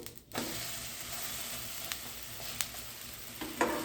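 A bottle gourd (dudhi) rosti sizzles steadily in a pan as it is flipped, the frying hiss constant after a brief pause, with a few sharp spatula scrapes and clicks against the pan.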